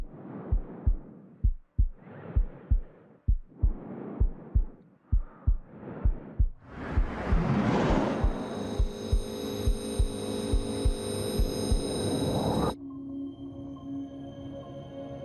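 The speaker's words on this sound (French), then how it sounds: "Quand on est enfermé dans cet espace, on entend les bruits de son corps." Heartbeat-like body sounds in an anechoic chamber: a slow series of deep, regular thumps, then a rising steady hum with the pulses continuing beneath it, ending in a lower drone.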